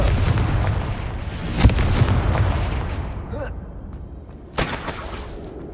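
A Confringo blasting spell goes off in Hogwarts Legacy with a sharp booming burst early on, then a second, smaller explosive pop later over a rumbling game soundscape.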